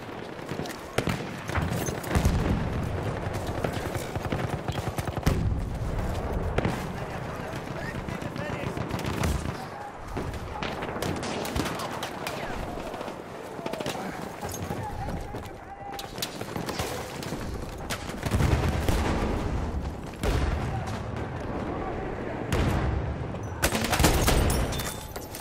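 Gunfire in the video game Battlefield 1 includes a double-barreled shotgun, with dense, continuous shots and battle noise filling the whole stretch while someone talks over it.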